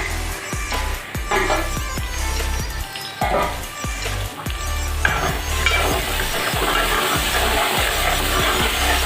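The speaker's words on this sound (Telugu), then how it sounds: "వేగాలి, ఇంకా వేగాలి. పచ్చి పచ్చిగా ఉన్నది, కొంచెం గోల్డ్ కలర్ వచ్చేటట్టు వేగాలి." Brinjal curry ingredients fry in a pan with a steady, loud sizzle, broken by repeated stirring scrapes and clacks of a utensil against the pan throughout.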